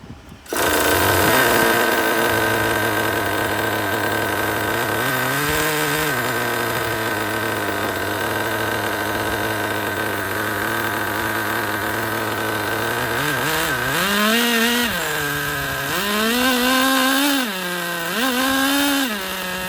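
A Traxxas Pro .15 nitro RC engine with a suspected restrictive carburetor runs with a loud, buzzy, steady idle, then revs up and down in several rising and falling surges near the end.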